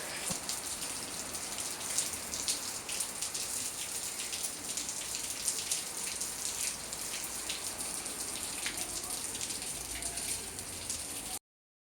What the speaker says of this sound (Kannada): ನಾನು ಬರೋ ಅಷ್ಟರೊಳಗೆಲ್ಲ ಮಳೆ ಸ್ಟಾರ್ಟ್ ಆಗಿಬಿಟ್ಟಿತ್ತು